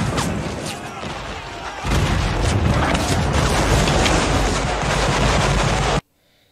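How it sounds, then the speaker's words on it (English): Battle scene from the 1989 film Glory with rockets and bombs bursting: dense, loud rumbling explosions and gunfire blend into a continuous roar, with a sharper burst near two seconds, then the sound cuts off abruptly. "There are definitely bombs bursting in the air."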